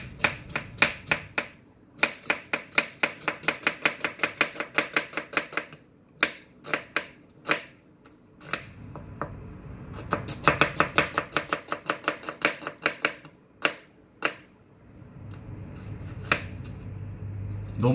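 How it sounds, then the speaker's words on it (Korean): An onion sliced with a knife along its grain, rapid close knife strikes on a cutting board in quick runs with short pauses between, crisp and fairly loud with no talking. "요 결을 요렇게가 아닌 바로 일직선 결로 이렇게 썰어 주시면 돼요"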